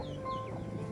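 A hen clucks on a rural Vietnamese farm, with short, close clucking calls over a steady background of other birds and outdoor noise.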